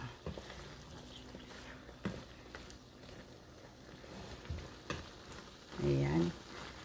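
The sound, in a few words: gai lan with assorted fish balls cooking in a pan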